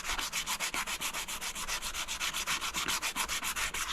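A diamond willow walking stick is rubbed with 100 grit sandpaper pressed by the thumb, giving quick, even back-and-forth scratchy strokes, about eight per second, close and steady with no talking.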